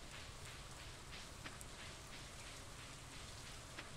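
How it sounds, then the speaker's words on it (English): Steady rain falling in the farming video game Stardew Valley, a soft continuous hiss of drops with occasional faint ticks, quiet and even throughout with no voices. "I think it's just because it's raining."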